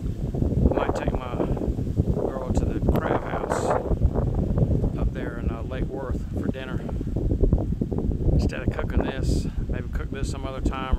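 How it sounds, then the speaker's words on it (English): Gusty wind buffets the microphone in rough bursts while someone talks steadily over it. "Very windy today."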